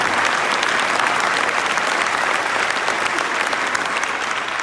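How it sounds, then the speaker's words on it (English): Applause fills a police recognition ceremony in Aurora, a loud continuous roar of many clapping hands held steady from start to finish. "Another round of applause for our fearless 5"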